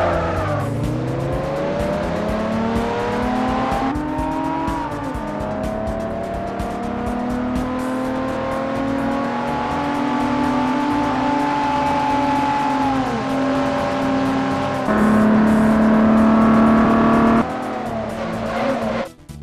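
Two DeLoreans, one slightly modified and one stock, launch in a quarter-mile drag race in the Forza racing game. Engines whine and climb steadily through the gears with loud, continuous revving and shifts, and no talking.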